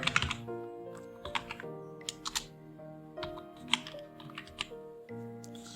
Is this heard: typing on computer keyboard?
yes